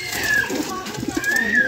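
Pet pigeons kept at a home in Bangladesh give soft, rolling coos through a noisy background, with brief faint whistle-like tones overhead.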